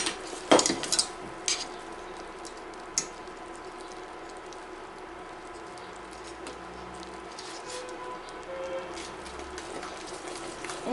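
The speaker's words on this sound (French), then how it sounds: "On mélange." A spoon scrapes and taps inside a saucepan of cooked sugar mixture for a Florentine tart, a few sharp clinks early on followed by quieter, steady stirring of a thick mixture.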